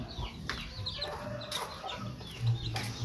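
A hen with chicks clucks repeatedly nearby, with other chicken calls and soft chirps scattered through the background.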